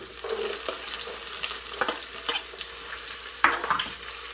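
Onion and ginger, with chopped garlic, sauté in a pan with a steady sizzle and frying crackle, broken by close, intermittent scrapes and clacks of stirring; no one speaks.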